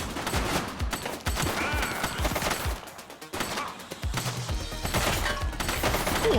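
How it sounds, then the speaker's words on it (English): Bursts of gunfire crack out in fast, repeated volleys during a police shootout in The Precinct, loud and close, with brief gaps between rounds and no talk over them. "Shots fired!"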